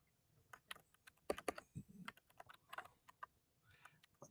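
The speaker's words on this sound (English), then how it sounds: "You can hear the keyboard going." Typing on a backlit computer keyboard, a fairly close run of irregular clicking keystrokes with brief pauses, quiet and alone without talk.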